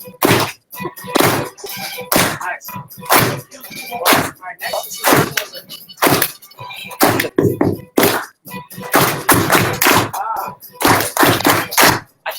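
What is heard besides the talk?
group doing a soul clap on the beat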